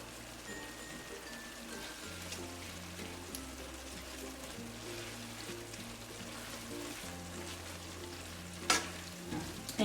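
Chilies are mashed into tinga sauce in a pan, a soft bubbling sizzle with a few spoon scrapes and a sharp clatter near the end, fairly quiet and without voices.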